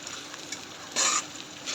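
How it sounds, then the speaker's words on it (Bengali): Chopped onion and green chillies sizzle steadily in a pan for a ridge gourd curry, with one brief, louder scrape of stirring midway. "পেঁয়াজ কাঁচামরিচ ভাজা হলে দিয়ে দিচ্ছি"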